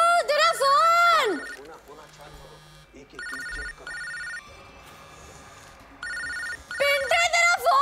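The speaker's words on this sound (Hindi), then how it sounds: "तेरा फोन बज रहा है यार" A mobile phone ringtone plays loudly in repeated electronic bursts, pausing and returning several times, with a brief musical sweep at the start and people speaking quietly underneath.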